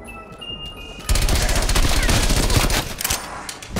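An SMG fires a sustained burst in Call of Duty Black Ops Cold War Zombies, loud and close after a quieter start, with other game sounds around it.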